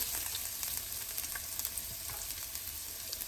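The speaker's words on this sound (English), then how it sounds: "I've got 3 cloves of garlic and a very small piece of ginger that I'm going to saute a bit." Three garlic cloves and a small piece of ginger sautéing in vegetable oil give a constant bright sizzle with faint scraping, close and steady, with no voices.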